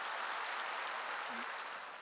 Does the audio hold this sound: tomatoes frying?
no